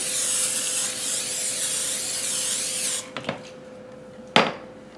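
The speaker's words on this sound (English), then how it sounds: "I'm going to spray my cake pan" Cooking spray hisses in a steady, loud continuous burst onto a cake pan for about three seconds, then a couple of short spritzes and one final sharp burst.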